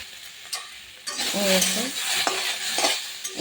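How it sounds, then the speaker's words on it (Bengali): A spoon scrapes and stirs taro curry in a hot pan with green chilli, sizzling and clinking against the metal for a few seconds, close and fairly loud. "পরিমাণ মতো লবণ দিয়ে এবার নেড়ে চেড়ে আমি একটু ঢেকে দেবো"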